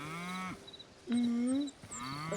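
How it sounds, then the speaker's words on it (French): A cow in Hytale moos in two long, loud lowing calls separated by a short pause, with game background sounds underneath. "Oh, c'est une vache."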